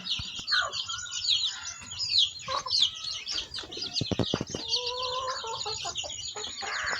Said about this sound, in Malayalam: എനിക്ക് മൊത്തം മൂന്ന് കോഴികളാണുള്ളത്